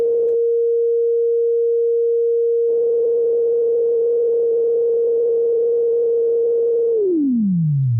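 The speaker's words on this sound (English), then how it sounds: "If I disconnect it, we can hear our sine wave again." A sine wave oscillator built in Pure Data sounds a steady pure tone that turns rougher and buzzier partway through, then glides smoothly downward in pitch at the end; loud and alone.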